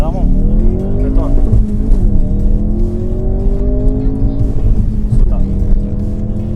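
A decat Ford RS launches hard on launch control, its engine roaring close and loud as it climbs through the revs with shifts and a brief tire squeal, while people talk over it.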